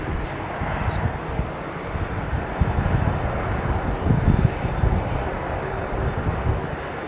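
A large airliner taxis at London Heathrow Airport, its steady engine roar rumbling broadly and continuously with some wind buffeting, while people chat nearby over it.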